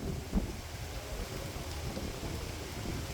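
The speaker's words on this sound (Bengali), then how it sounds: "আকাশে বৃষ্টি হচ্ছে, বাতাস হচ্ছে" Wind and rain on a cloudy day at a riverbank make a low, steady rumble with a faint hiss of rain. A brief bump is heard near the start, and there is no talk.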